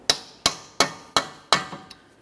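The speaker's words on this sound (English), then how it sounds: "we'll continue on with a hammer and punch directly in the center of the axle" Hammer driving a punch into the center of a front axle on a 2011-2020 Toyota Sienna, five sharp ringing metallic strikes at an even pace, then a lighter tap, close and loud with no talk.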